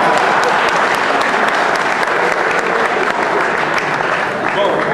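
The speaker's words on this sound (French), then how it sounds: "Est-ce que vous pouvez encore applaudir pour la deuxième fois?" Sustained applause from a large audience at a sports talent awards event, dense and steady clapping throughout with a faint murmur of voices underneath.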